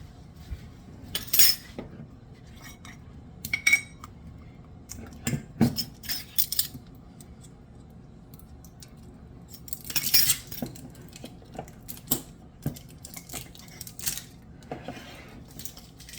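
A utensil stirs melting butter with cayenne in a pan over a low flame, making scattered close metallic clinks and scrapes at an irregular pace, with quiet stretches in between and no talking.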